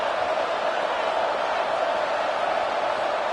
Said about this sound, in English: This Boise State crowd bringing the noise. It's deafening here on 3rd down.